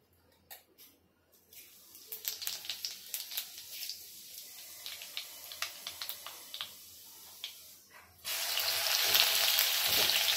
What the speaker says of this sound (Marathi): तेल तापायला ठेवले, आता मी ह्याच्यात जिरा मोहरी टाकते